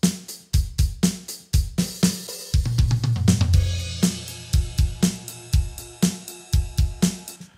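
Sampled drum kit from close mics with light processing and a little reverb, playing a steady groove of punchy kicks and snappy hits, with a brief fill-like flurry midway; loud and clear with no voices.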